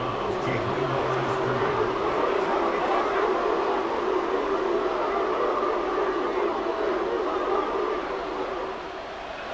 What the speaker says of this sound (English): The dog pound barking as loud as they can here.